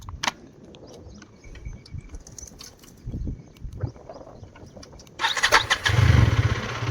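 A KTM Duke 250 third-generation motorcycle engine starts near the end, with a loud burst of rough mechanical noise after about five seconds of faint background clatter.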